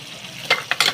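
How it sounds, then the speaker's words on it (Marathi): A tempering of spices with asafoetida sizzles in hot oil for dal tadka, with a low hiss and two quick bright crackling bursts close by. "आता इथे फोडणी दिले घातलेले आहे आणि हिंग तेव्हा टाकायचा राहून गेलेला होता"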